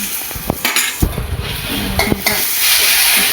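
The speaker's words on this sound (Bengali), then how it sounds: "ওটাকে দিয়ে দেবো আদা রসুন বাটা" Ginger garlic paste sizzling in a frying pan for chicken chana curry, a steady hiss broken by loud scraping stirs and metal clinks of the spoon against the pan.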